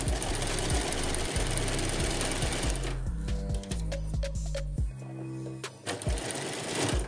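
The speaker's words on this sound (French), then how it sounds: "On coud l'ourlet du bas en arrière et en avant." A sewing machine stitches the bottom hem of a costume, running in loud continuous bursts with brief pauses and restarts as the stitching goes back and forth, close and alone.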